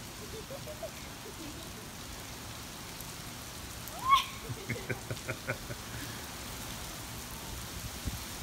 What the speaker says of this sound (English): Well, yeah, it's rain.